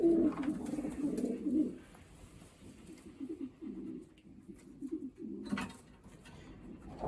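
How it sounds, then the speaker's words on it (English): Soft, low racing pigeon coos repeat in short murmuring bursts, close by in a loft, with a quieter stretch in the middle before the cooing resumes. "this is the oldest pigeon in here."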